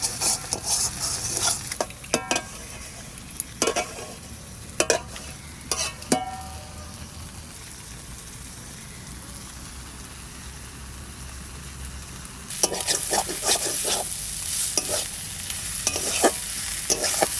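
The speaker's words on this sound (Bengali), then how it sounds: "শাক ভাজা হয়ে গেছে" Fresh garden leafy greens sizzle as they fry in a pan, with loud bursts of spatula scraping and stirring in clusters, a quieter stretch of steady hissing in the middle, then renewed rapid stirring close up.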